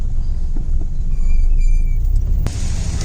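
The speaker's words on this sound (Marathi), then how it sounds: "लांब पर्यंत कंटिन्युअस ट्रॅफिक" Continuous road traffic of cars in a flood-hit area, a close, steady low rumble of passing vehicles with a faint high whine and a sharp click near the end.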